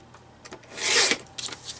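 Paper trimmer slicing through collage paper, a brief close scraping swish that swells in the middle, with faint rustles and small handling clicks around it.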